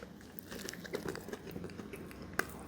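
Someone bites into a McDonald's Big Mac burger up close. Soft crunches and wet chewing follow, with one sharper crinkle of the wrapper near the end.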